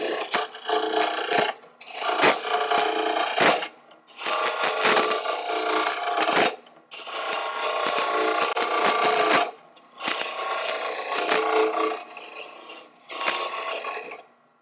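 A hand tool cuts wood while being rolled to ride on its bevel, giving six long rasping, scraping strokes of about two seconds each, separated by short pauses, loud and close with no talking.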